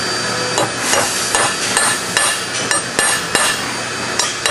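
Hammer tapping solid dowels into the main body of a Bowcaster prop during assembly, a close, loud run of sharp irregular metallic knocks over a steady hiss, with no voices.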